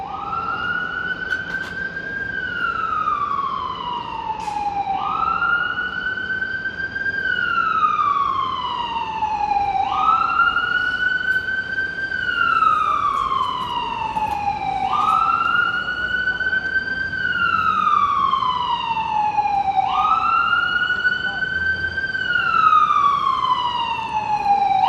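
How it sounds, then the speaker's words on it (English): Ambulance siren from Lenox Hill Hospital on a hot Manhattan street, a wailing up-and-down sweep repeating about every five seconds, steady and fairly close over traffic rumble. "that ambulance there, that is from Lenox Hill Hospital."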